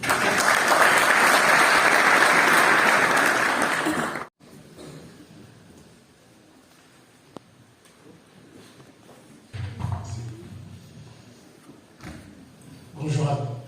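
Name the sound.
audience applause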